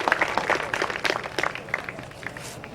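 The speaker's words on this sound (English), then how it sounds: "how about a big round of applause for all of our founding fathers and former track owners here at Midvale Speedway" A crowd at Midvale Speedway applauds in a scattered, uneven patter of claps that fades slightly over a few seconds, heard at some distance.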